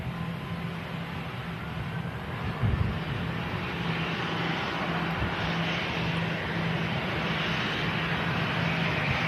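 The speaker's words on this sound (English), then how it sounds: "Austrian. A320 with the CFMs on board." An Austrian Airlines A320 with CFM engines arriving from Vienna into Manchester, a broad, steady jet roar with a low engine hum, heard from a distance and holding level throughout.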